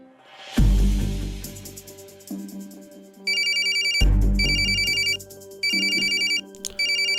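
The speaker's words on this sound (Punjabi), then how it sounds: "ਤੇਰਾ ਫੋਨ ਵੱਜੀ ਜਾਂਦਾ" A mobile phone ringtone rings at night in a bedroom, a loud musical ring with repeating bright tone bursts that starts, pauses briefly, and resumes twice, playing alone without talk.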